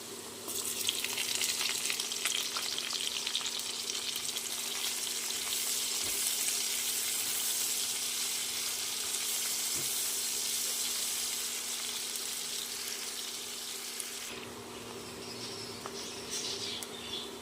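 Chopped onion fries in hot oil for a jackfruit and prawn curry, giving a loud, continuous crackling sizzle close by that eases slightly toward the end, with an occasional faint tap from a utensil.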